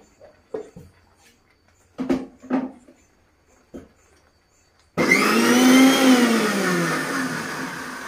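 An electric mixer grinder (mixie) in a home kitchen switches on after a few scattered clattering knocks, then runs loud and close with a steady whirring roar that wavers slightly in pitch.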